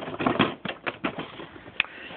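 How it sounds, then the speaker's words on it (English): Several crisp, separate clicks in an uneven rhythm from an eyelash curler being handled close by, snapping shut and opening with short bright transients and no talking. "Eyelash curler."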